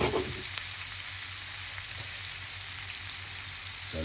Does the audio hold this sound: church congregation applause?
no